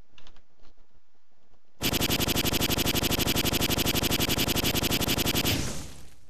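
Rapid automatic gunfire in the online game Colonies Online, shooting at a player's building: after a second or so of quiet clicks, a dense, loud, evenly paced burst of shots runs for nearly four seconds, then stops abruptly.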